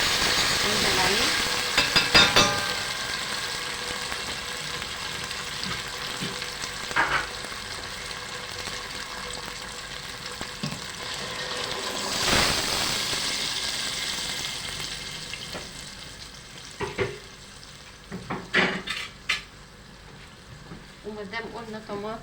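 Tomatoes and tomato paste sizzle steadily in a hot pan, a continuous frying hiss with occasional stirring scrapes and clinks throughout.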